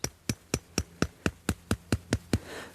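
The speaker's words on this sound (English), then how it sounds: "I'll just tap that in gently" A hammer taps a marker stick into the ground beside a living willow fedge, ten evenly spaced sharp knocks in a steady rhythm, close and clear with no talk over them.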